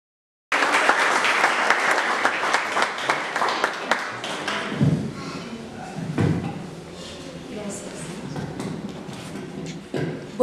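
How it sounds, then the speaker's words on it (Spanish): Audience applause at the Cinta de Plata 2016 awards ceremony in Peru, a dense burst of clapping that starts abruptly, then thins into scattered claps with a few knocks and voices underneath. "Les pido un fuerte aplauso para el canal 19."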